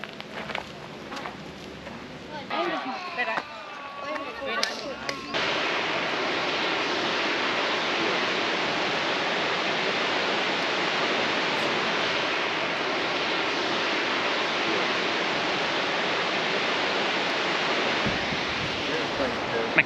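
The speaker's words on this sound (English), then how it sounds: "Mackenzie Falls." Mackenzie Falls in the Grampians roars as a dense, steady wash of falling water that grows louder and fills the scene, with people talking briefly at the start before the rush takes over.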